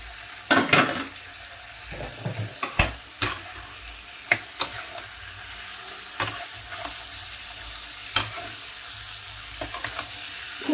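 Ridge gourd and moong dal sautéing in an open pan, with a low steady sizzle and intermittent sharp scrapes and taps from stirring, close and fairly quiet.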